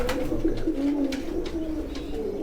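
Pigeons cooing at a pigeon farm, a close, continuous overlapping chorus of low throaty coos from many birds.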